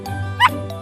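One short, sharp bark from a small cartoon dog rings out over a low steady hum, brief and fairly close.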